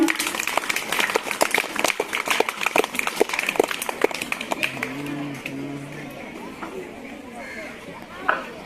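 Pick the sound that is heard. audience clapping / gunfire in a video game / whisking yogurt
audience clapping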